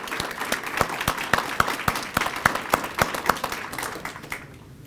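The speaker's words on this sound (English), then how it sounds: "A round of applause, please, for the American Legion Post 224." An audience at the annual Stars & Stripes Forever event in Farmington Hills gives a round of applause for American Legion Post 224, with steady, moderately distant clapping that thins out and fades over the last second.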